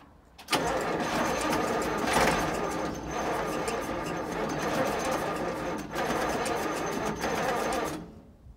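An old Massey 1800 tractor that sat unused for 20 years cranks over loudly and steadily for about seven seconds, a dense mechanical churning with brief dips where the starter pauses, close by, with no running catch.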